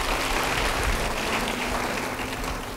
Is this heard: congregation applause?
yes